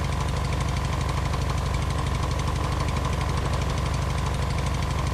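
A truck's three-cylinder engine runs in the Outbreak Island video game, a steady, loud, rapid chugging pulse that holds an even rhythm throughout, with no one speaking over it.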